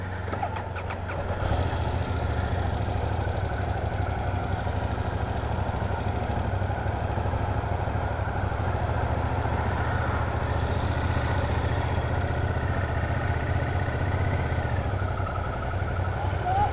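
A vehicle engine idles steadily and loudly after the choke is opened on a cold February morning, a constant low rumble that runs unbroken from a brief start-up sound at the beginning to the end, with no talking.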